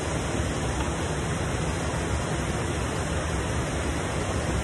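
Abrams Falls, a waterfall in the Great Smoky Mountains with a strong rip current at its base, gives a steady, dense, full-bodied roar of falling water, close and unbroken, with no talk.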